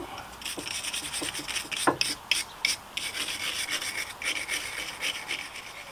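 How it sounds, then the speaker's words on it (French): Wire brush scrubbing hard through the groove and teeth of a universal joint yoke: rapid rasping strokes with brighter scratchy bursts, close and fairly loud, with no speech over it. "passer un bon coup de brosse métallique dans la rainure, dans les dents, pour enlever évidemment un maximum d'impuretés"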